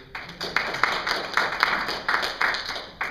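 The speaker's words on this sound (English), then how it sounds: "clapping is okay in citizens' forum" Several people clapping at a county citizens' forum meeting, a scattered, uneven patter of hand claps with irregular louder bursts in a room, no talk over it.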